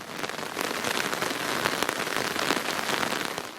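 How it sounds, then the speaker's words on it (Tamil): Heavy rain pours down in Dharmapuri, Tamil Nadu, a dense and steady hiss of drops pattering on surfaces close by, with no voices. "தருமபுரி உள்பட தமிழகத்தின் பல்வேறு பகுதிகளிலும் மழை பொழிந்தது"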